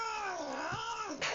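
A kitten lets out a long, loud, wavering meow that bends up and down in pitch, close by and alone, ending in a short harsher cry.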